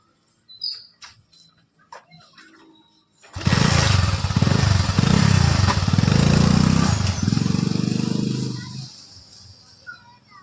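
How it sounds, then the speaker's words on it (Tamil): After a few faint knocks and a brief voice, a nearby motorcycle engine suddenly fires up and runs loud and rough for several seconds, its revs dropping before it cuts off. "உங்களுக்கு நான் பைக் ஓட்டி காட்டுறேன் பார்க்கலாம்"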